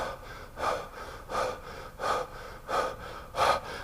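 A voice imitates exhausted panting after hauling a refrigerator, five heavy gasping breaths in a steady rhythm about every 0.7 seconds, close and fairly loud, with no other sound around them.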